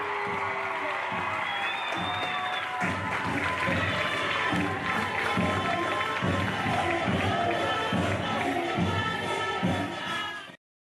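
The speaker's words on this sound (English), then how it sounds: "Please give another round of applause to the class of 2024 representatives of your fall sports." A stadium crowd at a high school football game applauds the class of 2024 fall sports representatives, a steady wash of clapping that runs for about ten seconds before cutting off, with a voice faintly under it.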